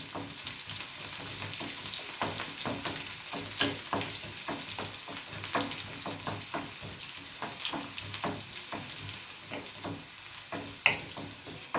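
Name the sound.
shallots frying in a pan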